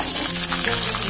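Small shallots hit hot oil with cumin and fenugreek for a Chettinad fish gravy, producing a loud, dense, continuous close-up sizzle.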